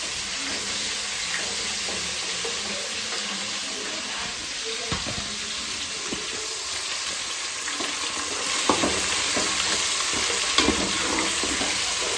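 Oil frying in a pan for biryani gives a steady, even hiss throughout, with faint clicks and soft clatter mixed in.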